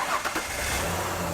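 A Ford engine with an EGR pressure sensor fault cranks and catches, then settles into a steady idle, close and continuous with no one talking.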